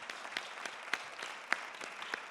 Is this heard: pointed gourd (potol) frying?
no